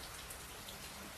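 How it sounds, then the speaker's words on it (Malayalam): Rain falling outside, a faint, even hiss of steady drops with no other sounds. "മഴ."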